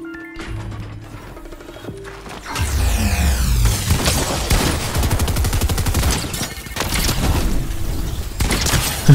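Rapid bursts of shotgun fire and impacts crash through a loud video game firefight, heavy booming blasts following a quieter stretch at the start.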